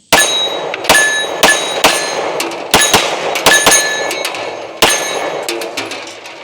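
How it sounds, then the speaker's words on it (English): Shots fired from a Springfield XD Mod 3 pistol with 115 grain rounds, about a dozen sharp cracks in irregular succession, loud and close, each ringing briefly. "we're back to shooting 115 grain rounds"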